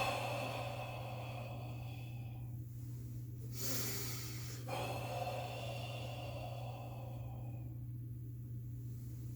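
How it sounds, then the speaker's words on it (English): Exaggerated breathwork breathing, drawn in through the nose and pushed out through the mouth, soft and close with a breathy hiss over a steady low hum, one longer exhale standing out midway. "Again, I am exaggerating the breathing,"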